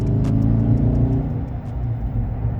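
A 2021 Dodge Charger Scat Pack 392 Widebody in eco mode pulls away with a deep, loud V8 rumble that climbs in pitch under acceleration, heard close from inside the car with no talking.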